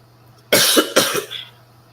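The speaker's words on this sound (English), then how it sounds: "I gotta go clear my throat and stuff." A person coughs and clears their throat in two harsh bursts close to the microphone, followed by a softer rasp, over a steady low hum.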